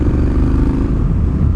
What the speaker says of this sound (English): even with the baffle in, I really like the sound of this bike, man